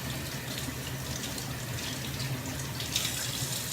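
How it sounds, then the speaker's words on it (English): Water runs steadily from a kitchen tap as vegetables are rinsed, a close, even splashing rush with no voices and no pauses. "Rinse your vegetables."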